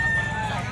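A white Kelso gamefowl stag with a straight comb and yellow legs crows briefly and close by at a fighting-cock sale in Lipa, Batangas, amid a low background murmur.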